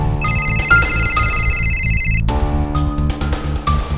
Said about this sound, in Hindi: कानपुर से शांतनु का फोन था।